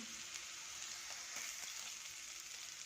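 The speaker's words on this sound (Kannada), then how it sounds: "ಗಸಗಸೆ ಹಾಕ್ತಾಯಿದ್ದೀನಿ 1/4 ಸ್ಪೂನು." About a quarter spoon of poppy seeds sizzles and crackles steadily in a hot pan for a savoury lentil curry, a soft, continuous frying hiss with faint pops throughout and no voices.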